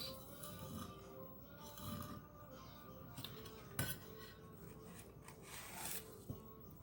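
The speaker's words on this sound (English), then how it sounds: "cut up my scallion, which we all know as green onion" Knife chopping scallions (green onions) on a board for a homemade burrito, giving a steady run of close, light scraping and tapping strokes with a couple of sharper clinks, no talking.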